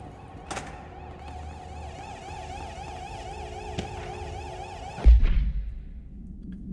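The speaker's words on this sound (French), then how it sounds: "Bon, j'entends une sirène de loin." A faint wailing siren sounds from far off in the video game Control, its pitch rising and falling over a low hum, before a sudden heavy thunk.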